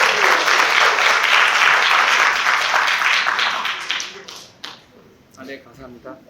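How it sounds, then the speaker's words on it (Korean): An audience at a continuing-education lecture for evangelists applauds loudly and densely, then the clapping thins and fades out. A voice speaks briefly near the end. "박수로 모셔보겠습니다."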